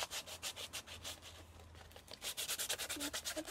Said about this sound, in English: Just rub it with the sandpaper.